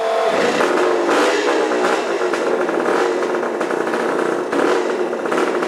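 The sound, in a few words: motorcycle engine starting with a Perry roller starter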